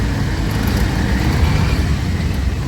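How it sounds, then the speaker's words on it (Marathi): Heavy road traffic heard while stuck in a jam, with a loud, steady, close rumble of engines and road noise that carries on without pause and with no talk over it. "गाईज आता आम्ही ट्रॅफिकमध्ये, खूप ट्रॅफिकमध्ये अडकलो."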